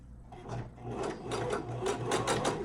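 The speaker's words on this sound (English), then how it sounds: "So once you have it flat like this, you're gonna start sewing." Sewing machine stitching a closure wig cap laid flat, a steady close mechanical whir with a rapid needle rhythm running continuously, with no talk over it.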